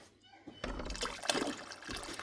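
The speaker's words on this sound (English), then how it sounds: "we're going to add more hot water to this." Hot water poured into a canning pot holding jars of cranberry juice, a steady splashing pour that swells and continues for about two seconds, close and moderately loud.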